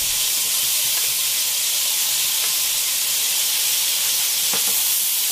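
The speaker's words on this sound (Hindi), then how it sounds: "और इस दही को भी इस मसाले के साथ अच्छी तरह हमें भूनना है।" Yogurt fried into spiced masala for a besan dhokli curry gives a loud, continuous sizzle and hiss from the pan, with a few faint stirring knocks.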